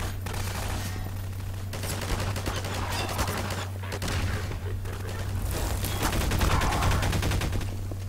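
Continuous rapid gunfire in the sandbox game GMod, steady automatic bursts over a low droning hum, staying fairly loud throughout with slight swells toward the end.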